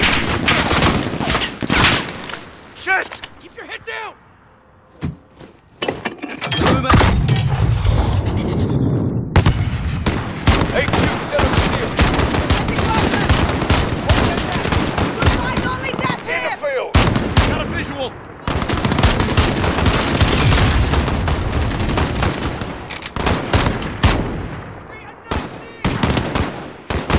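Heavy gunfire in Call of Duty: Modern Warfare (2019), dense automatic bursts and booming shots almost continuously, loud and close, with a brief lull early on and a voice occasionally under the din.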